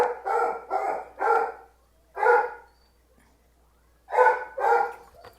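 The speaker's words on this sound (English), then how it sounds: "That's why she is obnoxiously barking." A dog barks in quick bursts, three in a row, a single one, then two more after a pause, fairly close and clear against quiet.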